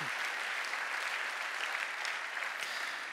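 Steady audience applause in a hall at an Easter church conference, many hands clapping evenly at moderate distance for about three seconds, with no talking over it.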